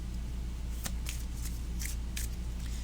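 A deck of tarot cards being shuffled by hand, several short papery riffles over a steady low hum, close and fairly quiet, with no talking.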